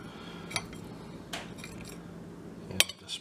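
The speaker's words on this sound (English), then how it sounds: "let me see if I can take the fork" A few sharp metallic clinks of a fork against a plate, spaced apart and fairly close, with a brighter tap near the end.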